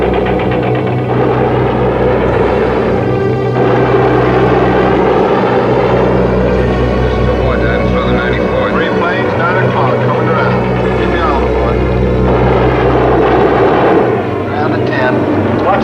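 A B-17 bomber's engines drone loud and continuous in flight, with one engine on fire, while radio voices call out attacking fighters over the steady roar.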